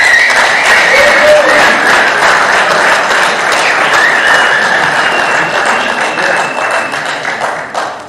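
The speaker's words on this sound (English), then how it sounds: "Another round of applause" An audience applauds an award presentation at the closing session of the 18th Africa Scout Conference, 2022: loud, sustained clapping fills the room throughout, with a faint tonal hum beneath.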